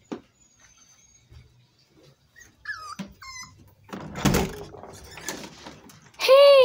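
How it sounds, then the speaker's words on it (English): A dog gives short yips and whimpers, with a door sliding in between, then lets out a sudden loud burst of barking at the end. "The dog's barking again."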